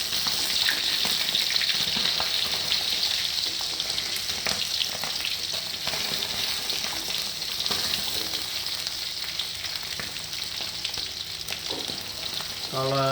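Chicken skin frying in a pan to render chicken oil, turning brown as it releases fat, gives a loud, continuous crackling sizzle with occasional scrapes near the end.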